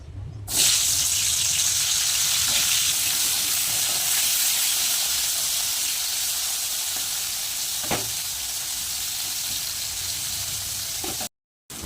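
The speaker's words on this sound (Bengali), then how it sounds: "তেল কিন্তু গরম হয়ে গেছে উচ্ছেগুলো দিয়ে দেবো" Bitter gourd slices hit hot oil in a wok and settle into a steady, hissing sizzle, with a couple of soft clicks from stirring before a brief cut to silence near the end.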